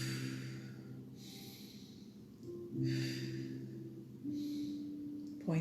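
Slow, audible breathing during a stretching exercise, with long inhales and exhales repeating in a steady rhythm close to the microphone over a soft background hum.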